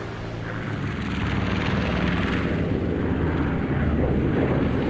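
Returning bomber aircraft engines drone in a dense, steady roar, swelling slightly and holding loud and continuous without voices.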